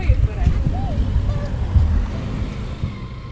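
A motorcycle rides along a road in the Carpathians, its engine rumbling under heavy buffeting wind noise. A voice is briefly heard over the steady roar.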